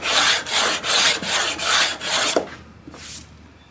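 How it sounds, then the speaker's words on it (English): Rhythmic back-and-forth sanding of a guitar fretboard with a 12-inch radius block and fine sandpaper, about six loud even strokes, then a few softer, slower passes as it tapers off. "This is a 12-inch radius. I have the radius block, so I'm going to use that"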